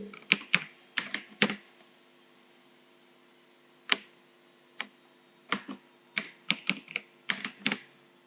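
Computer keyboard keys clicking in scattered bursts, some quick runs of several strokes and some single taps with pauses between, close up and fairly crisp, with no talking.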